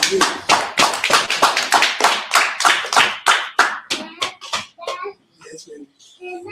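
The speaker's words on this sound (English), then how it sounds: "Clap it up." Audience in a meeting hall claps in a quick, steady burst of sharp hand claps that thins out and fades after about five seconds, with a few faint voices underneath.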